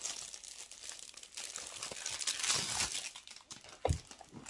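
Crinkly plastic packaging around a die-cutting machine for scrapbooking is unwrapped up close, a dense rustling crackle that swells in the middle and ends with a couple of soft thumps.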